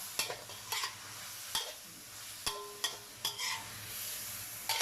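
Mushrooms stirred in a pan for a minced pork stir-fry, a quiet constant sizzle punctuated by repeated sharp spatula scrapes and taps against the pan, irregularly spaced and close.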